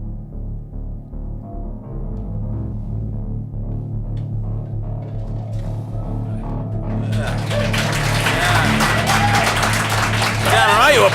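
A live theatre audience applauds at an audio drama show: music plays first, then broadband clapping swells in over the last few seconds and builds to the end.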